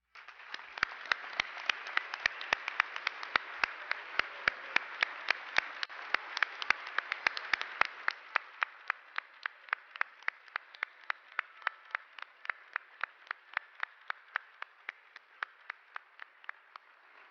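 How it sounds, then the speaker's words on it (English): Applause for award nominees at a space awards gala, a dense wash of clapping with sharp, evenly spaced claps cutting through, thinning after about eight seconds into softer scattered claps that continue to the end. "Please join us in congratulating all of the nominees with a hearty round of applause."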